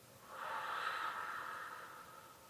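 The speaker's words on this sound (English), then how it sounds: "and breathing out." One slow, soft exhalation during a guided breathing exercise, an airy breathy rush that swells and gently tapers off in a quiet room.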